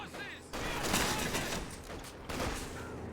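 Gunfire in the Company of Heroes 2 strategy game, a rattling fusillade of rifles and machine guns at a moderate level, with bursts swelling and fading amid battlefield noise and faint talk underneath.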